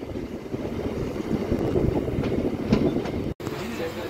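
MEMU express train pulling out of Bikkavolu station between Rajahmundry and Visakhapatnam, with a steady loud rumble and rattle of the moving carriages heard from on board, a brief dropout near the end.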